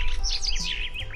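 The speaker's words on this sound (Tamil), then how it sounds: "உடனே அங்க ஆயிரக்கணக்கான பறவைகள் ஆகாயத்துல பறந்து வந்தது." A flock of birds chirps in quick, overlapping tweets as it flies in, bright and fairly close for a brief moment, with no voices.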